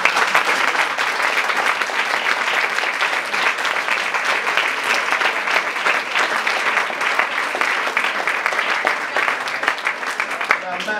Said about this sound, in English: So first of all, a round of applause for Mr. White.